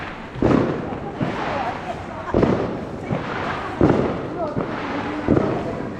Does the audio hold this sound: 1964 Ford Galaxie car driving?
no